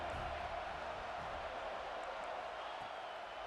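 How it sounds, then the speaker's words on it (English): A home crowd cheers in the EA Sports College Football 26 video game, a steady, fairly faint stadium roar that holds unbroken from start to finish. "how nice is it to have the home crowd going absolutely bananas?"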